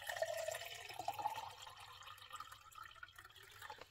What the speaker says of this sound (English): So I'll put my water in.